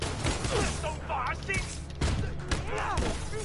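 Rapid gunfire and impacts in a Spider-Man video game, dense loud bursts of shots under a continuous game soundscape with several sharp thuds, no clear speech over it.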